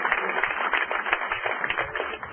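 Church congregation applauding during a Portuguese-language sermon: a steady, dense wash of many hands clapping together, sustained and moderately loud for the whole stretch.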